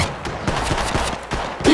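Bursts of rapid gunfire aimed at the player in the mobile battle royale Apex Legends Mobile crackle loudly and up close, with repeated shots overlapping in dense volleys that swell again near the end.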